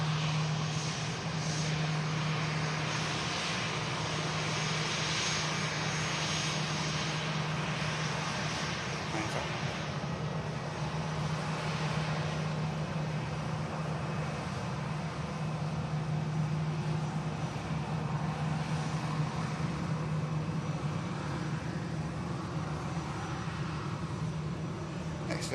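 A Boeing 737 MAX rolls along the runway at an airport, a continuous far-off jet engine roar with a steady low hum, broad and unchanging throughout, with faint background noise and no clear talk.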